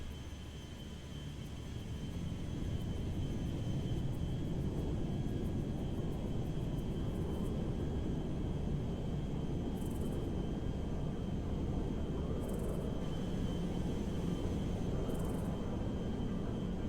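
The TAV 37 Valkyrie shuttle flies in GTA 5 with a constant loud engine roar that swells in over the first two seconds, then drones on evenly, with faint high whines and periodic ticking layered on top.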